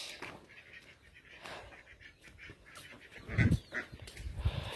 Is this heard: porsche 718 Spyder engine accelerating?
no